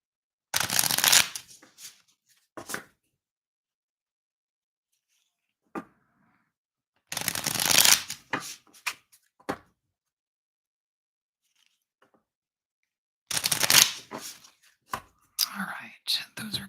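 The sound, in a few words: shuffling a deck of cards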